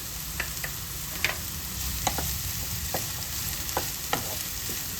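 Vegetables frying in hot oil in a pan for masala pasta, a steady close sizzle with occasional stirring clicks and scrapes, no voices.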